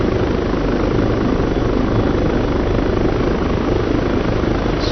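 A simulated helicopter in ARMA 3 flies near a landing area, its steady rotor and turbine drone holding loud and unbroken throughout with no voices over it.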